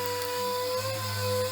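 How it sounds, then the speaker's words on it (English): Ratcheting or power tool work on the 10mm valve cover bolts of a Nissan 3.5 L V6 in an Altima, a steady whirring tone held close and fairly loud for the whole moment, with no talking. "Remove all the bolts from the valve cover on the front side."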